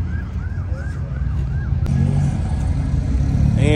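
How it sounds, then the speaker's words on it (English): A Mercedes-AMG coupe at a Kansas City cars and coffee meet drives past, its engine roar swelling and staying loud up close, with a brief siren-like chirping tone heard early on. "AMG coupe."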